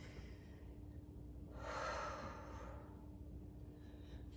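A single long exhale during a vinyasa yoga flow, moving into warrior two: a soft, breathy rush of air that swells and fades over about a second against a low steady background hum.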